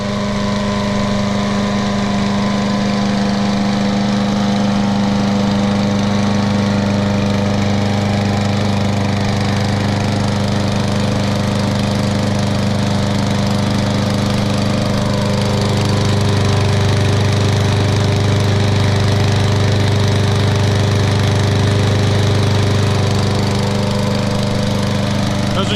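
A Poulan 21-inch walk-behind lawn mower with a Kohler XT series engine runs steadily at close range, a loud, even, throbbing drone that holds for the whole stretch with no talk over it.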